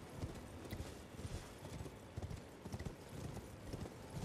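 A horse in Elden Ring walking, with a steady rhythmic clip-clop of hooves, faint and fairly close over a low background hum, with no talk.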